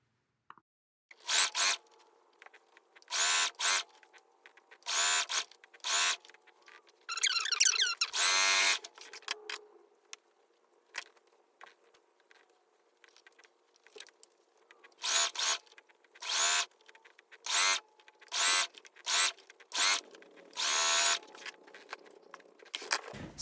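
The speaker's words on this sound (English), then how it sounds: "Now we're going to sew straight down where we just pinned." A sewing machine stitches straight seams on a microwavable rice heating pad in short, buzzing bursts, starting and stopping repeatedly with quiet gaps between runs. The machine sounds close and fairly faint.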